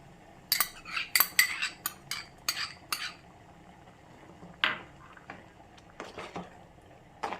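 Papaya curry being stirred in a pot after ground coconut paste goes in, with a run of clinking spoon-on-vessel scrapes and taps, then a pause and a few more scattered stirs, close and fairly quiet.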